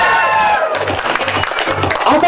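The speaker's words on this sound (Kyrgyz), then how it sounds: "Жаңа мырзаға кол чабуулар." An audience at a Kyrgyz stage performance bursts into loud applause and cheering, a dense continuous wash of clapping and voices with a rhythmic musical backing underneath.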